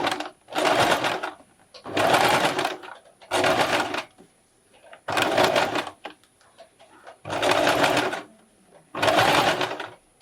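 Sewing machine stay stitching a bra cup lining, six loud bursts of rapid needle clatter about a second each, separated by brief quiet pauses.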